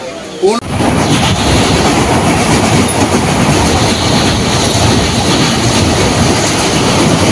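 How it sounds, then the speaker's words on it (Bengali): A passenger train at a station in Odisha, on a route toward Kolkata, gives a loud, close, continuous rumble and rattle that starts abruptly after a short pause and carries steadily to the end. "তো ট্রেন ঢুকে গেছে একদম কারেক্ট টাইমে"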